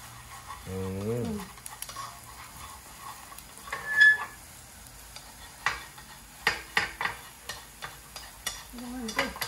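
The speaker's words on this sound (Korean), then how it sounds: "계란을 기름에 튀겨서 그 튀긴 계란에 기름을 다시 빼주네 이렇게" Egg sizzles as it fries in oil and is stirred in the pan, cooked for a home stir-fry of beef brisket and bean sprouts over rice. The sizzle is faint and continuous, with scattered ticks of the utensil and people chatting over it.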